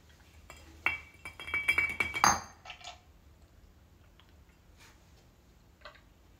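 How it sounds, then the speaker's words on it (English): A stirred cocktail, poured through a julep strainer into a glass, makes a short burst of liquid trickling with clinks of metal on glass, followed by quieter scattered taps and clinks. "we're gonna strain this into our glass"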